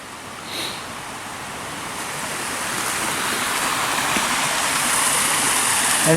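Horseshoe Creek flows past a culvert along a rail trail, a steady broadband rush of water that builds slightly and stays close and loud throughout.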